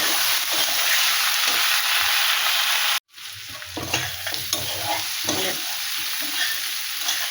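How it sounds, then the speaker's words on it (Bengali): Spices frying with taro and potato in a home kitchen pan, a loud steady sizzle broken by a brief cut, then resuming with scraping stirs of a spatula. "এইভাবে ভাজতে ভাজলে সব মশলা ভাজা হবে।"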